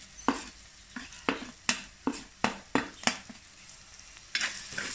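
Coriander powder being stirred into sautéed onions in a pan, about a dozen sharp, evenly spaced scraping strokes of a spoon over a soft sizzle, close and without speech.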